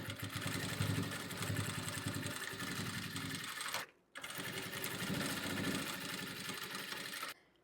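Sewing machine running in two sustained bursts of rapid, steady stitching through cut milk cartons for a water bottle holder, with a brief pause near the middle; close and fairly loud, no talk.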